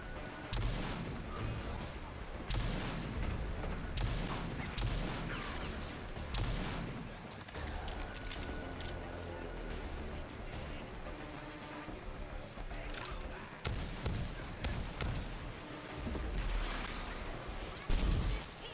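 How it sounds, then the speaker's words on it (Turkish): Gunfire from a weapon in the shooter game Rage 2, dense rapid bursts of shots cracking repeatedly over a busy game backdrop, fairly loud and continuous throughout. "Çok zevkli bir silah ya."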